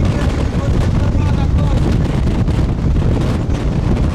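Loud, constant roar of strong wind buffeting the microphone over snow near Hateg, Hunedoara, Romania, a dense rumbling rush that never lets up, with faint voices buried underneath.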